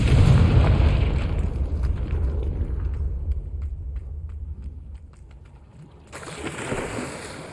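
A fiery Confringo spell blast in Hogwarts Legacy, a deep booming explosion that opens loud and rolls into a fading rumble, followed by a brighter burst near the end.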